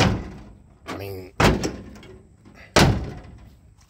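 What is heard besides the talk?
1965 Chevy C10 truck doors being shut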